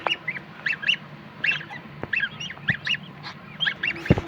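Goslings in an incubator calling in quick, repeated high peeps and chirps, scattered through the clip over a steady background hum, with a soft knock near the end.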